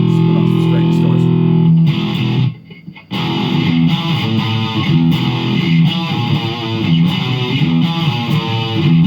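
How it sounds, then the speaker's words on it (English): Glarry electric guitar, an $89 model two years old, played through straight distortion: thick, sustained driven chords and riffs ring loudly, with a brief near-silent gap before playing resumes dense and continuous. "Let's put on some straight distortion."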